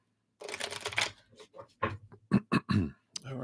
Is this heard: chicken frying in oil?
no